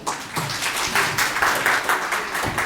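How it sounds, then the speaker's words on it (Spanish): Applause from the audience at an academic forum, a moderate patter of many hands clapping steadily for a few seconds. "Un aplauso, por favor."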